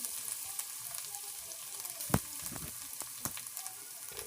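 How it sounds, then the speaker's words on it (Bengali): Ginger garlic paste frying in oil with onion paste for prawn kofta, a low steady sizzle broken by a few sharp spoon scrapes and clinks as the masala is stirred. "আমি আদা রসুন বাটা দিয়ে ভালো করে কষিয়ে নিচ্ছি।"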